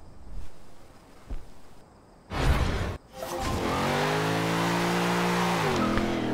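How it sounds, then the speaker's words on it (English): A Corvette C7 SR drifting in Forza Horizon 2 begins with a few quiet knocks and a sharp whoosh. A loud, sustained engine roar follows, its pitch dipping and rising as the car slides, with faint tire squeal and no voices. "Get in the Corvette C7 SR and drift like a boss."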